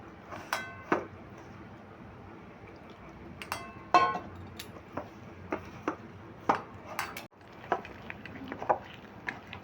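Batter for a shiuli (night jasmine) leaf recipe whisked in a bowl, heard as irregular clinking taps of utensil against the vessel, close and moderately faint, with scattered sharp knocks.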